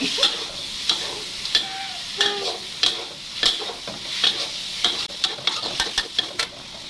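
Chicken fried rice being stir-fried in a pan, with repeated sharp spatula clacks and scrapes at a brisk, uneven rhythm over a low sizzle.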